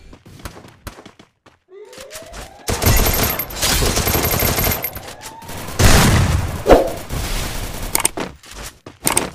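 Explosions from grenades thrown during a ranked classic squad match of the mobile shooter Garena Free Fire, with repeated loud blasts and crackling gunfire-like bursts that swell and fade over several seconds, with no talk.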